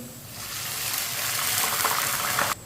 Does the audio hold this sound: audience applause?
no